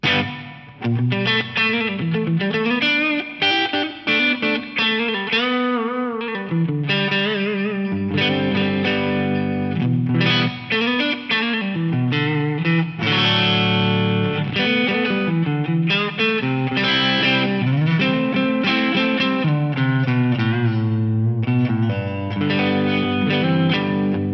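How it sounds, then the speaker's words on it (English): A distorted electric guitar plays a continuous melodic line drenched in lush plate reverb from a Yamaha SPX90 effects unit, loud and close, with no voices. "I really like preset number 4 as well, the plate reverb."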